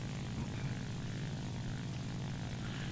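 Steady droning roar of a Ki-84 fighter plane's propeller engine in a flight game, loud and constant with no breaks.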